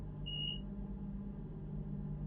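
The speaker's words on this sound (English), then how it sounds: "2 on the buzzer to signal it's time to go" A guard's buzzer on a British railway train simulator sounds as a short electronic tone over a low, steady engine and cab rumble.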